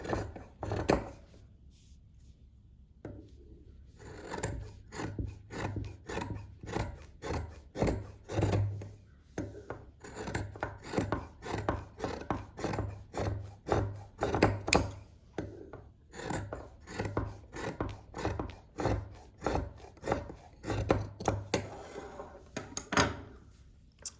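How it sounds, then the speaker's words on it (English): Scissors trim excess fabric from a handmade kitchen pot holder, a steady series of quiet, rhythmic snipping and rasping cuts close by, with no talking. "I am taking my pins out and just trimming this excess fabric, all of it."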